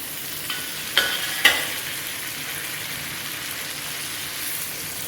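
Onions, drumstick pieces and potatoes fry in a pan for dal, a soft steady sizzle with two brief clatters as pieces drop in.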